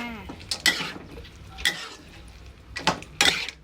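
Chicken with cashew nuts is stir-fried in a pan: four distinct scraping strokes of a utensil against the pan, spaced out over a faint background sizzle.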